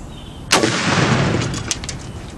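A single sharp rifle shot of 7.62x51 full metal jacket fired from the prone position cracks loudly and close, followed by a rolling echo that fades slowly.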